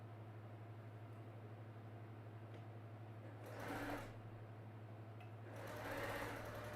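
A sewing machine stitches around a fabric circle for a Dresden sunflower quilt block, a faint steady mechanical hum with a low motor drone and two brief louder whirring bursts.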